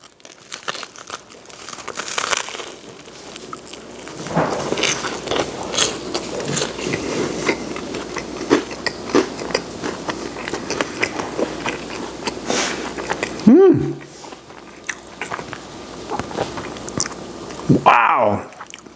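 A BBQ pulled pork melt on crisp Texas toast gets bitten and chewed up close. Crunchy bites and wet chewing run steadily for most of the clip, ending with a few murmured sounds of approval.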